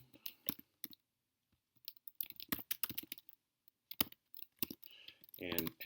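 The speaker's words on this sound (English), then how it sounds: "each time I hit enter here in the console, this line of code is going to execute." Close, crisp clicks of typing on a computer keyboard while entering R code in a console, irregular bursts of keystrokes with a firmer key press, plus a brief voice near the end.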